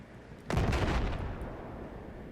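TOW missile strike in Battlefield 4: a sudden loud blast with a booming low-end impact, then a long rumbling decay, heard alone.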